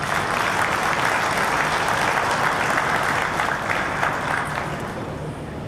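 An audience at a 2021 municipal election results event in Pretoria applauds Dr. Brigadier Bam. The dense, continuous clapping holds steady for several seconds, then eases slightly toward the end, with no voices over it.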